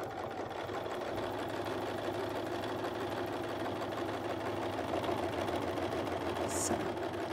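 A quilting sewing machine stitches curves along a Westalee Curly Q ruler, a steady close mechanical whir with a rapid even needle rhythm running continuously throughout, with a brief higher click near the end.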